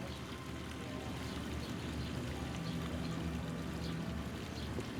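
Gentle flowing water in a backyard pond water feature in a Midwest water garden, a steady soft wash and trickle that runs evenly throughout with no voices.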